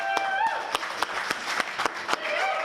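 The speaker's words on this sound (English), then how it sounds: "Give everyone a round of applause." Applause from the audience at a boxing fight-night press conference in Las Vegas, Nevada, a steady wash of clapping with a few sharper, louder claps standing out, while a voice talks faintly underneath.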